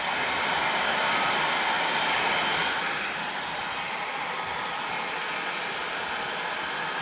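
A heat gun warms vinyl graphics on a dirt bike, giving a steady, close, loud blowing hiss that continues without pause, easing slightly partway through.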